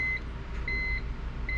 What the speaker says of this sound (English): Key is on, you can hear the beeping